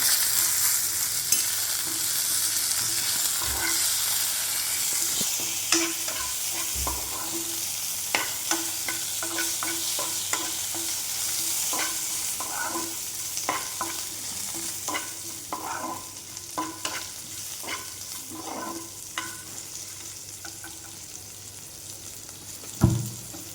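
Beef frying dry in a pan with no water, a steady sizzle throughout, broken by frequent scraping and clinking strokes as it is stirred, fairly close and with no talking.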